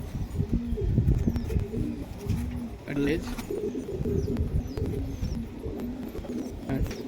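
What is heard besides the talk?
pigeons cooing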